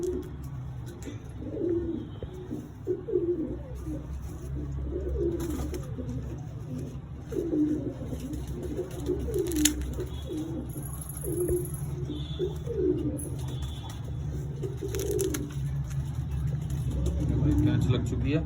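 Male pigeons cooing in a loft, soft repeated low coos continuing throughout amid steady background hum and occasional chirps, with people talking now and then.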